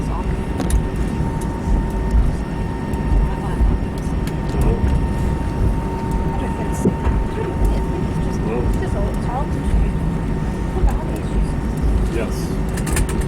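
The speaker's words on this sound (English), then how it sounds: "Now this here is apparently the busiest airport in Germany, even busier than Berlin." Ambience at Germany's busiest airport, the Lufthansa hub: a steady broad roar of aircraft and traffic with scattered clunks and distant voices throughout, continuous and fairly loud.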